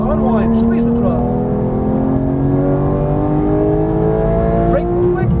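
A Porsche GT3 accelerating on the Las Vegas Motor Speedway track, its engine note climbing steadily at high revs, loud and close from inside the car.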